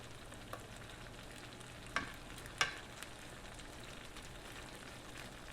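Smoked sausage pieces fry in a pan with a faint, steady sizzle and a couple of sharp pops and spatters, quiet and close with no voices.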